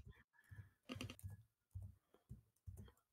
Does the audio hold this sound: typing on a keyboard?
yes